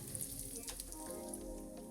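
Cumin seeds crackle and sizzle in hot mustard oil for a mixed vegetable dish, giving a steady close-up frying hiss with fine popping throughout and no voices.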